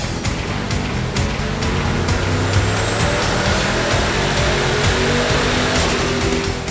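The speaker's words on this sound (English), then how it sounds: "Let's put our turbocharged Camaro on our Dynojet 424X and get a baseline run." A turbocharged Camaro making a baseline pull on a Dynojet 424X chassis dyno gives a loud, dense, steady roar of engine and rollers, with a faint rising whine running through it.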